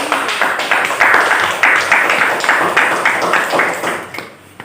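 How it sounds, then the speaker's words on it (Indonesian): A classroom of students applauding, loud, near hand clapping in rhythmic bursts for about four seconds before fading out. "Kita beri tepuk tangan dulu."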